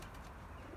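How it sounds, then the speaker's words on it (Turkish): Pigeons kept for flying, out in cold weather, give a brief, faint coo and a soft flutter close by, lasting under a second. "çok kuş var, ürküyor hayvan ya"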